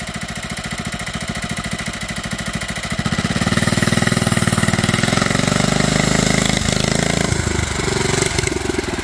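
Bolens Husky 800 garden tractor, revived after sitting parked for 14 years, its small engine running close and loud with a rapid steady putter that rises into a heavier, faster throb as it works harder.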